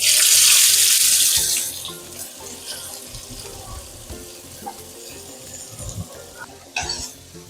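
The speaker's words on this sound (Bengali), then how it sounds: "এবার এর মধ্যে দিয়ে দেবো কুচিয়ে রাখা পেঁয়াজগুলো" Chopped onions drop into hot oil already holding dried red chillies and torn bay leaves, setting off a loud hissing sizzle that quickly settles into a quieter, steady frying crackle with occasional stirring clinks.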